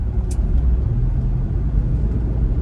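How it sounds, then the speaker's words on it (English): Old Land Rover Discovery II, about twenty-odd years old with roughly 94,000 miles, cruising on a road, a steady low engine drone and tyre rumble heard from inside the cabin. "a short drive in a 20-something-year-old Land Rover, so this thing does get around"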